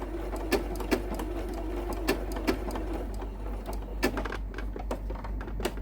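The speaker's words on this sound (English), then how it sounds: "You're going to stitch all the way around, and when you get back to the end you'll do a little back stitch or a lock off stitch." A sewing machine stitches raw edge applique in short bursts of rapid mechanical clatter, with brief pauses between runs, close and fairly quiet, no talk.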